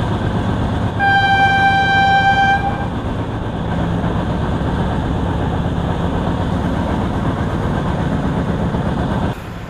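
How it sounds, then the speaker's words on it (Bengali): The Sundarban Express pulls away from a station in Bangladesh, its horn sounding one long, loud blast before the steady rumble and clatter of the moving train takes over, close and continuous. "5 মিনিট পরে কিন্তু ট্রেন ছেড়েছে।"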